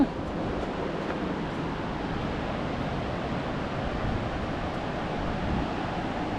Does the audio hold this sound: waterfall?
yes